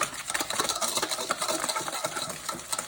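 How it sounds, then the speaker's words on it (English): Egg yolks being whisked quickly with sugar in a bowl for pastry cream, a steady, busy rapid scraping and rattling that runs continuously at close range with no talk. "add the sugar to the yolks while I mix it. This is important so that we don't burn it. I'm gonna whisk that quickly."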